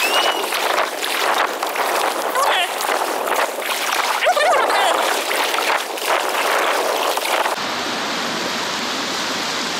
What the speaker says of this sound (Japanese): 相変わらずの土砂降りですけど